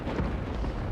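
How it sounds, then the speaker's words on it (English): Dense barrage of explosions from the animated Arcane series, a continuous loud rumbling roar of overlapping booms filling the whole moment. "There's a lot of explosions."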